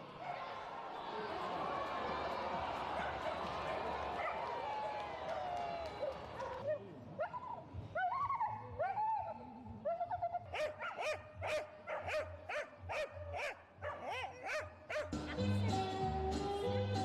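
Several dogs bark and yip in short bursts at a two-day dog dancing festival with performances, the barks sharp and close, following a stretch of talk and crowd noise, with brief whimpers between.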